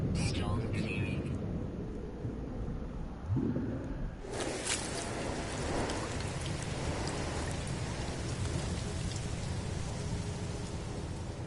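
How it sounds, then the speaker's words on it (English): Steady rain from a storm in No Man's Sky hisses throughout as a continuous, moderately loud wash of drops. A voice speaks briefly over it near the start. "Weather update. Storm clearing."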